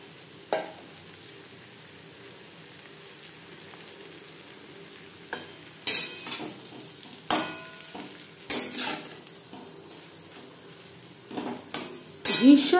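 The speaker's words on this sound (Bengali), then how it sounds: "ঘির সাথে গাজর বেশ ভালো করে মিক্সড করে দেব।" Grated carrot in ghee is stirred in a pan over a soft background sizzle, with a series of loud spoon-on-pan scrapes and clatters that grow more frequent toward the end, heard close with no voices.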